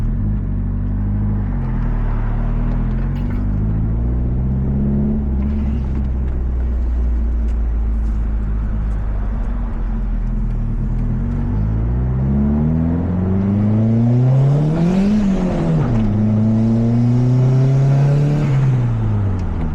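Car engine of a DSM that needs plenty of work, running close and loud while driving, its pitch climbing and falling through several rev-ups and gear changes, with no talking over it.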